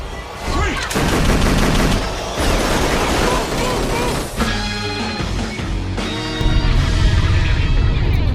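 Loud, sustained gunfire rattles for several seconds as a magazine is emptied, with densely overlapping shots, a short dip around the midpoint, and a heavier burst near the end.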